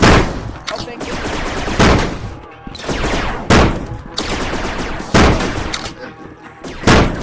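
Bursts of gunfire crash and boom repeatedly through a murder drone game or animation clip, loud and dense, with shouted voices mixed in.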